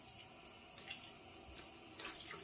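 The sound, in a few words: water running from a tap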